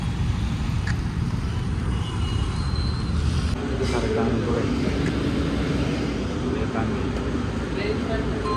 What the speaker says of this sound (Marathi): ट्रॅफिक बघा वरी किती.